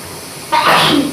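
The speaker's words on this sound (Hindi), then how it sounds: "जमाई आ रही कि छींक आ रही है पता ही नहीं चल रहा" A single sharp sneeze bursts out close by in a hot home kitchen, sudden and loud after a moment of quiet room noise.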